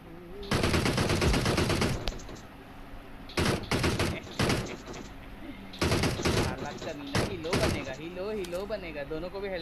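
Bursts of automatic gunfire from PUBG Mobile, rapid rattling volleys in several separate clusters with short gaps between them, loud and close, with someone talking over the quieter stretches.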